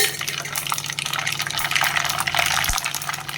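Mustard seeds spluttering in hot oil for a spicy mango pickle, a dense, continuous crackling and sizzling close by throughout.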